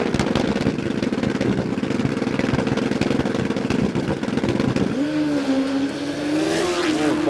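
A drag racing motorcycle launches at Willowbank Raceway, a loud, dense engine roar that gives way to a rising, drawn-out tone as the bike pulls away down the track.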